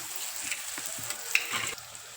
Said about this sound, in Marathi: यामध्ये मी एक चमचा मोहरी टाकते एक चमचा जिरं आणि एक चमचा हळद तसंच यामध्ये आपण टाकतोय कढीपत्ता